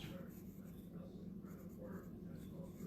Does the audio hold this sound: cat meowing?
no